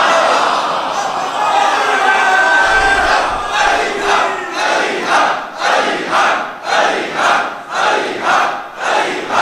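A large crowd at a religious sermon chants slogans together in loud, rhythmic unison, the bursts rising and falling in a steady repeated cadence that grows more regular toward the end.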